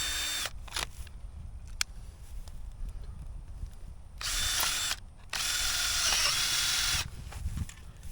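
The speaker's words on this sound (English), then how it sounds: "So now I'm just going to drill a hole." A power drill bores a hole in the center of a fruit tree protection project, with two sustained bursts of whirring drilling between quieter clicks and handling sounds, close by.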